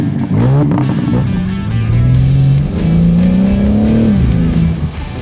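A BMW M4 Competition on a test drive with drifting on a wet track: loud, close engine revving that climbs and falls through gear changes, with tire noise underneath.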